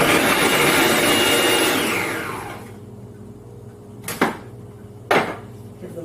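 Strawberries for homemade jelly being chopped and crushed in a food processor or blender: a loud, steady whirring grind for about two seconds winds down, followed by two short sharp knocks.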